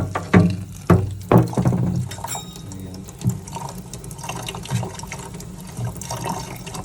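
Water is poured slowly into drywall patching mix in a container, with a few sharp splashes at first and then a softer, uneven trickle and sloshing nearby.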